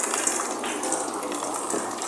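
Tap water runs steadily over a yam being washed at a kitchen sink, a continuous close splashing gush with no voices.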